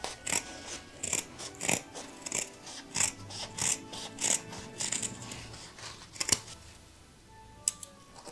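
Scissors snip notches into the fabric seam allowance of a country-style Christmas heart and angel decoration, giving about a dozen quick, close, crisp cuts in a steady rhythm before a few scattered clicks.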